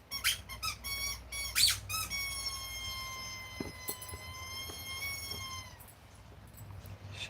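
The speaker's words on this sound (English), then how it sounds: "Here goes Screaming Chicken." A rubber screaming chicken toy squeezed repeatedly, giving loud, drawn-out squeals with a few short squeaks before them, close to the microphone with no talking.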